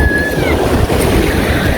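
Stormy wind by the seaside, loud gusting buffeting roar with surf-like wash, continuous and close, with brief faint tonal whistles early on.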